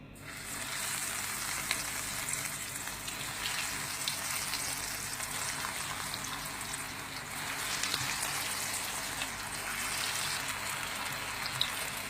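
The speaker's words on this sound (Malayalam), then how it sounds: "ഇനി ഇതൊന്ന് ഫ്രൈ ചെയ്തെടുക്കാം." Onion rings sizzle as they deep-fry in hot oil, a steady, close crackle and hiss that keeps going throughout with small pops now and then.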